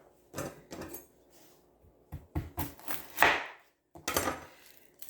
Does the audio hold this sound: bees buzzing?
no